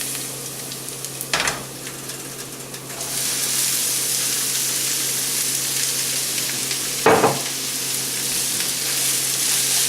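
Green peppers, onions and mushrooms saute with garlic in a pan, giving a steady close sizzle that swells louder midway, with two distinct scrape-and-clatter stirs and no talk.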